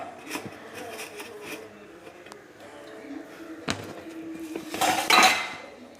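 Grated coconut and other ingredients going into a mixer jar, with close clinks and knocks of dishes and spoons, a few sharp taps and a brief louder clatter near the end, with some talk.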